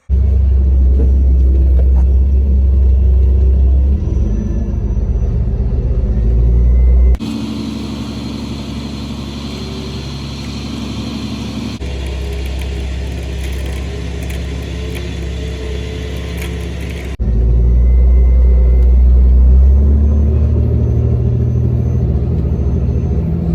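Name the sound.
off-road vehicle winch pulling during recovery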